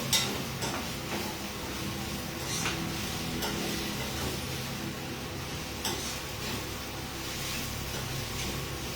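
Sprouted raw green gram frying in a pan, a steady close sizzle under continuous stirring with occasional scrapes and light clinks against the pan, no talking.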